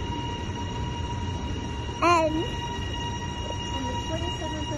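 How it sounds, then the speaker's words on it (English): A Metro Trains Melbourne train at Dandenong Station gives a steady rumble with sustained tonal hum, broken by one brief rising squeal near the middle. A voice speaks a single short word. "And this train is metro Australia."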